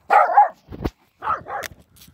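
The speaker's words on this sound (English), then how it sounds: "Dogs." A few sharp dog barks and yips in quick succession, close by, with short pauses between them and no talking.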